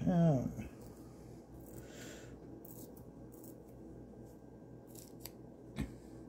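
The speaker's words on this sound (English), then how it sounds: "while you're grabbing this piece of tape off the roll" Tape is pulled off a roll while working at a light box, giving several short, close ripping bursts spread across a quiet background, with a brief voice at the very start.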